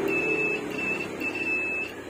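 A continuity tester's high electronic buzzer tone sounds in three short bursts with brief gaps, over a steady background hum; no one speaks.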